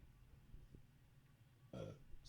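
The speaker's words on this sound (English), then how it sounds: "I had a burp." A single short burp lands near the end, loud and close after a quiet stretch of low room noise, with a faint thump earlier on.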